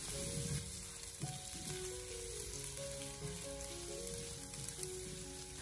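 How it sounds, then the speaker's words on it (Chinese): Sliced pork belly slowly stir-frying in a wok over low heat gives a dense, constant sizzle and crackle, close and even, with faint scraping and a few tonal hums underneath. "将切好的五花肉放进锅中，开小火给它慢慢的翻炒一下"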